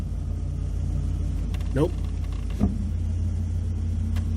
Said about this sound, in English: I'm going to just go through the gears from reverse to drive and make sure we don't have any clunking